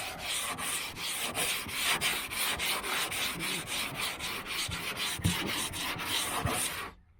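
A sanding block is worked by hand over a car body panel on a 1978 V8 Nova hot rod, giving rapid, rhythmic back-and-forth rasping strokes close up and moderately loud, with no voices.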